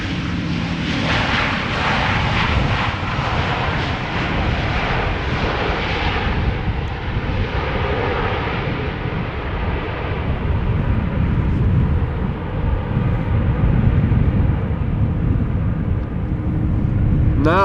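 Boeing 747 jets arrive at Schiphol Airport, a steady broad engine rumble carrying on at moderate loudness, slowly easing, heard from fairly close.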